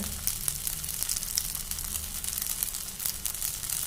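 A vegetable dosa cooks in oil on a griddle, giving a steady close sizzle with scattered crackles and pops throughout, and no voices.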